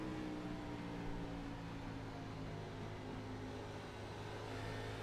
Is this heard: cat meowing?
no